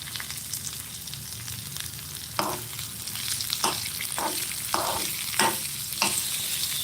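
Onions sautéed with salt in a pan, with a steady sizzle under a series of sharp spatula scrapes and taps, close and moderately loud, with no voices.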